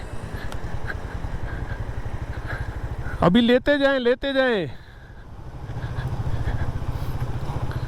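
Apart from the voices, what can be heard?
CD70 motorcycle engine on a mountain road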